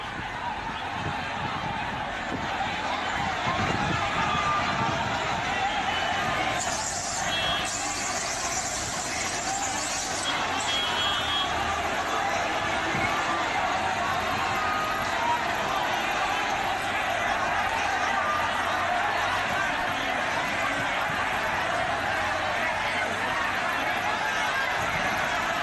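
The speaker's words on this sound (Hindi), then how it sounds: "दूसरी तरफ तादाद में हजारों की संख्या में ये भीड़" A crowd of thousands of people gathered on a road, with a dense, continuous roar of voices and chatter. Vehicle noise and a brief squeal are mixed into the crowd.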